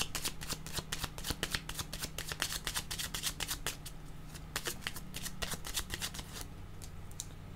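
Tarot cards being shuffled by hand, a rapid run of crisp riffling flicks and slaps, close and fairly quiet, with no talking over it.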